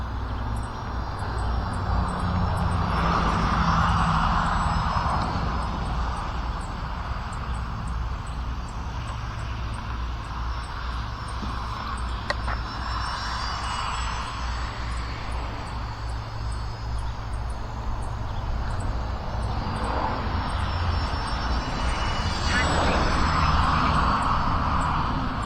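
Turbo Timber Evo RC model airplane flying on a windy day, its electric motor a steady high-pitched whine that swells and fades as it passes, over constant wind rumble, with no voices.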